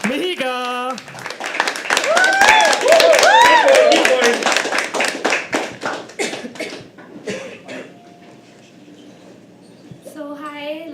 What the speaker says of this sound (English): can we please increase the round of applause for our first performer of the evening, Mihika